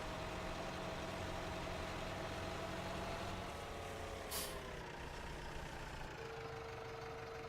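A tractor engine in the farming video game Farming Simulator 17 drones steadily at a low idle, with a brief hiss of air midway and a faint tonal whine near the end.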